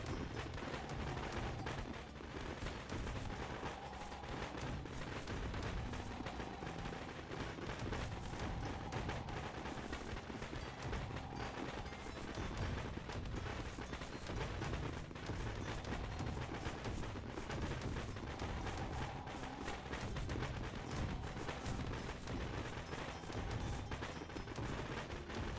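Cannon turrets in an indie game-jam video game fire without pause, a dense, loud, continuous barrage of booms and blasts with no gaps, heard alone with no talk.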